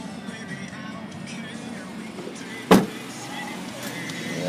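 Power window motor on a 2006 Honda CR-V LX AWD hums steadily under a car interior, with a single sharp click or thump partway through and no talking.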